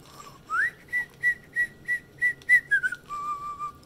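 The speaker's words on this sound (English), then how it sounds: "W is for whistling" A clear, melodic whistled tune of short repeated notes, followed by a few sliding and held notes, solo and close.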